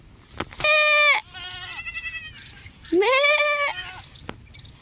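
Two loud, wavering bleats from newborn goats about two seconds apart, close by, with softer bleating between them and no talk.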